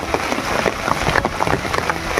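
Heavy storm rain falls steadily around ripe paddy fields in Jhalda, a dense, loud, continuous wash of noise with no speech.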